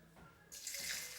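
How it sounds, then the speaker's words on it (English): Purified water poured into a sourdough starter, a soft splashing pour that starts abruptly after a quiet moment and runs on, close and fairly quiet. "I'm going to add 100 grams of purified water"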